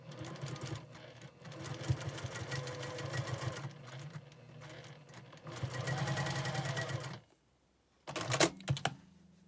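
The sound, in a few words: sewing machine restitching quilt block seams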